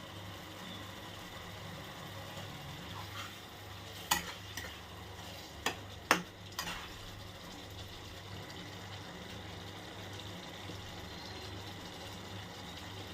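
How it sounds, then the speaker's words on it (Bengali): Egg curry with chopped coriander is stirred in a pan over a steady low sizzle, with a few sharp utensil clacks against the pan in the middle, close and without talk. "আমি একটু ধনে পাতা কুচি দিয়ে একটু নাড়িয়ে নিলাম এভাবে।"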